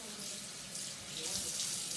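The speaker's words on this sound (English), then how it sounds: "First, turn on the water." Tap water runs steadily into a sink for hand washing, a soft continuous splashing hiss at low level throughout, alone without talk.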